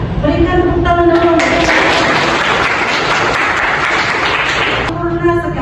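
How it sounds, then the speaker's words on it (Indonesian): Classroom applause from students, a dense burst of clapping that swells after a moment and holds steady for several seconds before fading, with a voice faintly audible at the start and end. "berikan tepuk tangan dulu."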